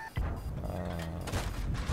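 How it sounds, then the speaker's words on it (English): Rapid cannon fire from a T-29 tank in World of Tanks, a quick succession of heavy booms and rumbling blasts packed close together across a couple of seconds, loud and dense throughout. "this gun can shoot fast, like you can see"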